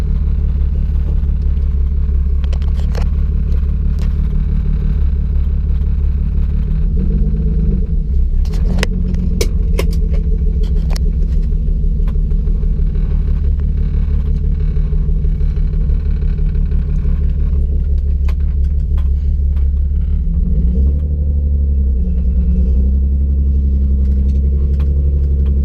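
BMW drift car engine drones steadily while driving on the road, a loud continuous low rumble with pitch swells as it revs, plus occasional rattles and jingles inside the cabin.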